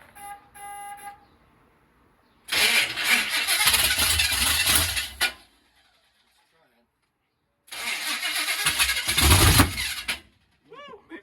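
A supercharged 454 V8 in a 1969 Chevelle SS cranks and tries to fire in two loud, sustained bursts separated by silence, with a short voice before the first attempt.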